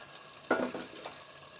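Chicken meat dropped into spice paste frying in a pan sets off one quick, sharp sizzle burst that fades into a softer crackle and faint stirring, heard close and without talk.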